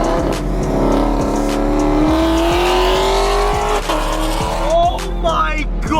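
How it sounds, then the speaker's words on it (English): LS3 V8 engine at a nighttime car meet revs loudly and steadily with rising pitch, tire squeal and crowd noise around it, and people shouting over the roar. "Good old LS3 power, baby. God, it's so loud."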